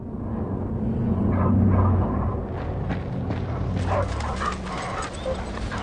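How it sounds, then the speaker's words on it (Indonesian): A dog in the action film Sisu gives short barks and whimpers over a loud, dense rumbling film soundtrack, the dog sounds sitting partly within the heavy background. "dia mendengar suara anjing miliknya."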